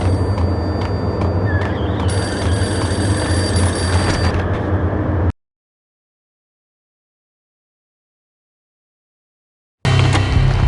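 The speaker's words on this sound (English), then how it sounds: "Payphone started to ring." A payphone rings in the video game Max Payne, a steady ringing tone over low ambient hum, then a stretch of complete silence before the hum returns.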